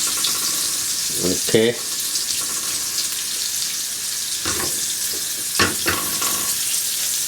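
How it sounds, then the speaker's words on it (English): Food frying in a pan before a ribeye steak goes in, a steady close hiss of sizzling oil running throughout with a few brief scraping and clattering stirs and a short spoken word. "Let it fry a bit."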